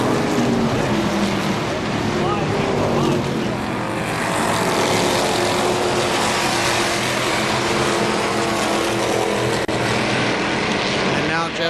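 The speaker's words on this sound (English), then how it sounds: "Jeff Wilson right on his back bumper in the 97 machine." Late model race cars roar around a speedway during a main event, a loud continuous wall of engine noise from several cars at once, with an announcer calling the race over it.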